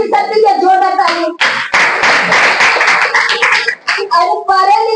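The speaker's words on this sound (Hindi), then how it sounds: "जोरदार ताली" People at a DXN meeting break into loud, close clapping for about two seconds. Talking and singing-like voices come before and after it.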